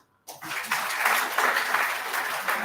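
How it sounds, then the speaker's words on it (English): Audience at a college commerce department guest lecture breaks into sustained applause, starting abruptly and staying steady and fairly loud throughout, with no talk over it. "You need to clap, please."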